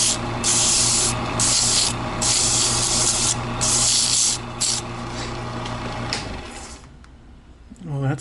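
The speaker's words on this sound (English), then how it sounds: "we're going to go ahead and sand a little bit." Sanding a painted sunburst necklace pendant: steady close-up abrasive rubbing in repeated strokes with brief pauses, stopping near the end as a short faint sound takes over.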